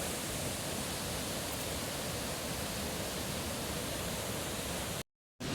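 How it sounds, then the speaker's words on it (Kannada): The Kali river roars in a steady, loud broadband rush of churning water with no voices, cut off by a brief silent gap near the end. "ಕಾಳಿ ನದಿಯ ಭೋರ್ಗೆರ್ತ"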